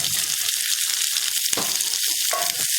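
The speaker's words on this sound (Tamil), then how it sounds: "இதை நல்லா வதக்கிக்கலாம்." Peeled small onions and garlic cloves sauté in a hot pan for a small-onion chutney, filling the whole stretch with a loud, dense, crackling sizzle and no talking.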